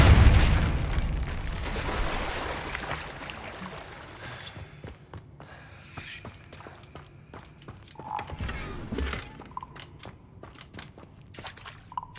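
A Depulso spell cast in Hogwarts Legacy, a loud booming burst at the start that decays into rumble, followed by scattered pops, footsteps and faint magical chimes.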